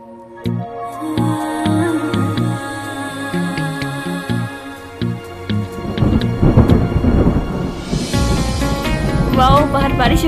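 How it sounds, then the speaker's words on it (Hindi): Rain with thunder outside, a rumbling roll of thunder building in the second half over steady rain, following a musical passage at the start. "बाहर बारिश हो रही है।"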